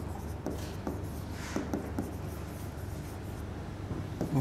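Chalk or marker writing on a classroom board during a physics lesson on vectors, soft scratchy strokes and taps coming in short bursts, close and fairly quiet, with no talk.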